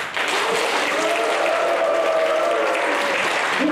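Church congregation in Sydney, Australia clapping and cheering together, a dense, steady wall of applause and shouts that holds loud and constant for several seconds without a break.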